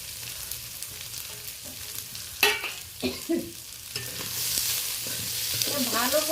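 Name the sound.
stir-frying onion, green chilli and garlic in tempering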